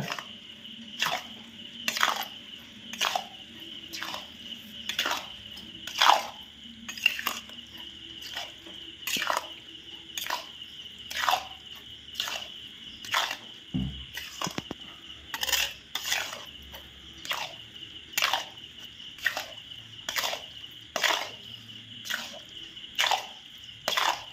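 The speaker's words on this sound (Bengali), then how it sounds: "ভালো করে নেড়ে চেড়ে মাখাতে হবে এটা।" Mahua fish bait for catla being kneaded and mixed by hand, giving a steady run of sharp, wet clicking and squishing strokes in a regular rhythm, close by, with no talking.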